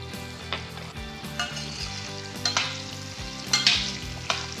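Raw mango pieces sauté in a hot oil tempering with turmeric, a close steady sizzle broken by several louder stirring bursts, with soft music underneath.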